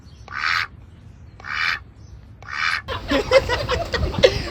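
A person mimics a duck, giving three spaced, nasal quacks followed by a quicker run of quacking calls, close and fairly loud against a quiet background.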